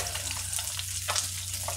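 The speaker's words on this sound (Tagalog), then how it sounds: "nagpiprito po ako ng galunggong para sa ating pananghalian" Galunggong fish frying in a pan for lunch, a steady close crackling sizzle with occasional louder pops and spatters over a constant low hum, no voices.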